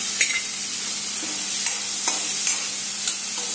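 Garlic and curry leaves sizzle in a pan for a garlic rasam, a dense, loud, steady frying hiss with a few light clicks from stirring, and no one talking.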